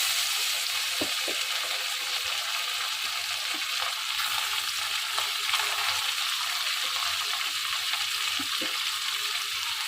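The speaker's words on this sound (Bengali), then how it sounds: "এবার আমি মাছটাকে বিসমিল্লাহ বলে ছেড়ে দিচ্ছি। তেলও গরম হয়ে গিয়েছে।" Fish sizzles steadily in hot oil for a Bengali home-cooked chorchori, a dense broadband crackle that stays level throughout, with a few soft clicks and pops rising above it, and no voices.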